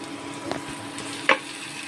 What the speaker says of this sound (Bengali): এটাকে আমরা ভালো মতন করে ভেজে নেব